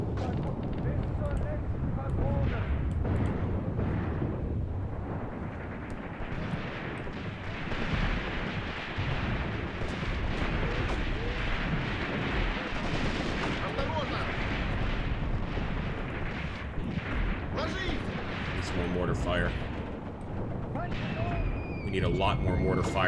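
A WWII Eastern Front video game battle with a Wehrmacht counter-ambush: artillery and mortar fire form a dense, continuous roar of rumbling blasts and crackling gunfire that fills the whole stretch at close range.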